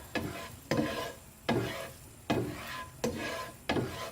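Butter caramel stirred in a pan, six rhythmic scraping strokes of a utensil across the pan surface, each a close, rasping sweep over a soft sizzle.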